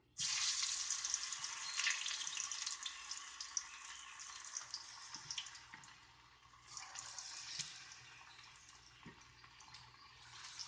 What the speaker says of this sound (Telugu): సో ఆయిల్ హీట్ అయింది. సో ఇప్పుడు మనం కాలీఫ్లవర్ని వేసుకున్నాం.